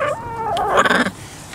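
Broody hens cluck and squawk in a coop in a brief, busy burst, several birds calling close by, then the noise drops away quickly.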